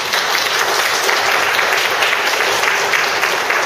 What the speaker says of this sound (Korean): 박광근 소장님 이제 강의 하시고 나오실 때 여러분 큰 박수로 환영해 주시기 바랍니다.